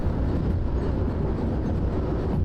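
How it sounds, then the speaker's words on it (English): A train rolls along the track in the Derail Valley railway video game, a steady, loud low rumble with continuous mechanical grinding that never lets up. "I think this section of the track is good enough to actually let the train to roll a little bit"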